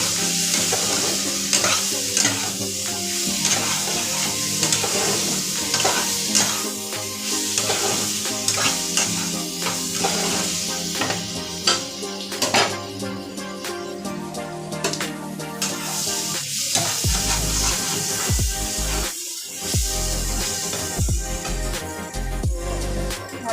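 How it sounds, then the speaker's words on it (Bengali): Fried potato pieces stirred and sautéed in a hot pan for a Bengali katla fish curry, with steady crackling sizzle and scraping stirs running throughout, loud and close, no talking. "তারপর আরো ভালো করে কষিয়ে নেব আলুটা"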